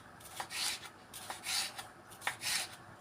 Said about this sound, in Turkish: Şimdi bunları çok ince ince doğrayacağız arkadaşlar.